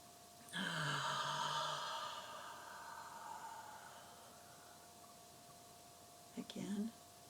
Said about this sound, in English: begin by breathing in.